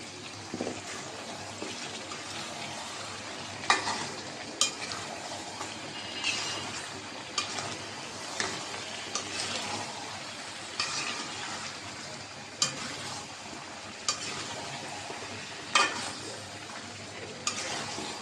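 Beef curry with papaya and potato is stirred and sautéed in a pan, a steady sizzle broken by repeated sharp scrapes and clacks of the spatula at a moderate level, no voices.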